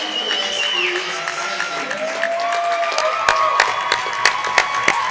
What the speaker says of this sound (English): And a great reception from this crowd.